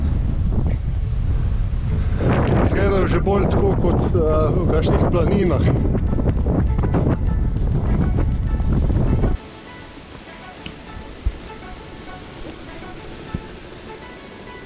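Strong wind sweeps across an open, exposed coast on Antigua, roaring and buffeting the microphone while someone talks over it, then drops suddenly to a quieter, gusty hush with occasional bumps.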